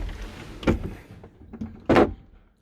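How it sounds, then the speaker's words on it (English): Motorhome doors slide and shut on a Mobilvetta Design K Yacht Tekno Line 64, with a soft rolling rumble and a louder closing thud near the end, nearby in a quiet interior. "You can also close this here, these doors."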